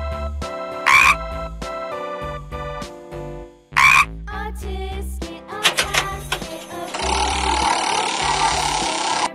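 Toy animal figurine sounds in a kids' game, including a brief electronic frog croak among rapid musical and mechanical toy noises, loud and close, with a buzzing burst near the end.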